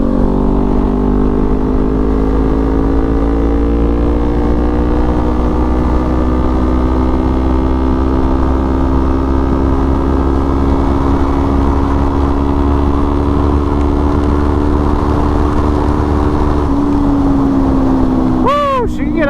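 A Kawasaki Z400 sport motorcycle is ridden on the road, its engine a loud, close, steady drone whose pitch climbs slowly under acceleration, with wind rushing past throughout and a brief shift in tone near the end.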